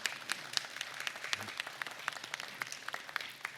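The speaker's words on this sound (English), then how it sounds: "So a big round of applause." Audience at a food-cart kickoff press event claps, a steady patter of hands from a modest crowd at a fairly low level, without voices.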